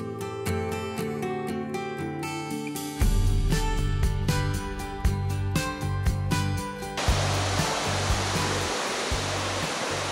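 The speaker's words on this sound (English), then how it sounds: "And here's another waterfall." Steady roar of a waterfall in the Atherton Tablelands, Australia, fills the scene, at first under a strummed musical backing that drops away after several seconds, leaving the rushing water alone.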